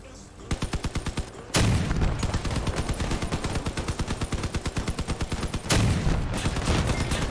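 Rapid automatic gunfire bursts in a vehicle-combat video game, dense repeated volleys of shots at moderate loudness with a couple of heavier booms, running almost continuously throughout.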